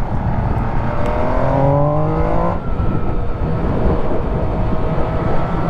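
An MV Agusta Dragster RR motorcycle engine revs up hard through rising pitch sweeps, then drops back to a steady close roar with wind noise.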